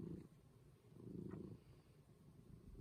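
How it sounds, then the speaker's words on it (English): A black-and-white cat purrs softly and close, a steady low rumbling pulse that swells and eases in slow breathing cycles, faint and alone. "She has 1 minute of purr ASMR."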